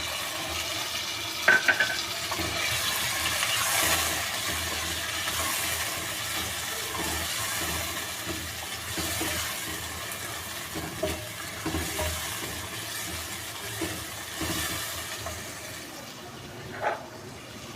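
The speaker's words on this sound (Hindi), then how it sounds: "अब इसके साथ लहसुन अदरक का पेस्ट डाल देंगे और फ्राई करेंगे 1 मिनट तक।" Chicken sizzles steadily in a pan with garlic ginger paste for a chicken pulao, under a continuous frying hiss broken by occasional stirring scrapes and clicks, with no talking.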